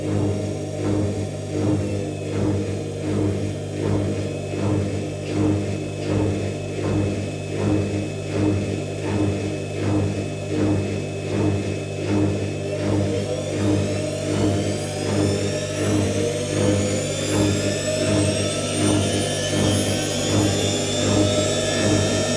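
An IKEA RENLIG (Electrolux) IWM60 integrated washing machine ramps up into its spin, a loud steady motor drone and whine that pulses rhythmically and climbs in pitch partway through, running alone throughout.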